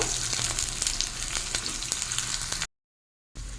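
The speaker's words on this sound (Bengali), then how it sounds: "অল্প একটু ভেজে নেব।" Onion sizzling in mustard oil, a dense crackling fry with small pops for under three seconds, then a sudden silent gap before the sizzle returns briefly.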